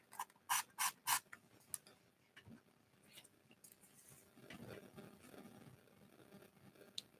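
Three quick, crisp hissing sprays from a vintage Christian Dior perfume pump atomizer unused for decades, close up, followed by soft handling and rustling noises.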